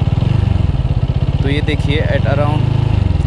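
A TVS Apache RTR 200 4V motorcycle engine running loud and close with a steady rapid pulsing throb, while someone talks over it.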